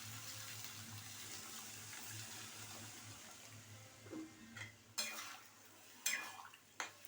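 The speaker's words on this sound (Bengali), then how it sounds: "আমি জল দিয়ে দিচ্ছি।" Water poured into a cooking pot of fish-head muri ghonto with rice and potatoes, a faint steady wash followed by a few sharp clinks of utensils against the pot toward the end.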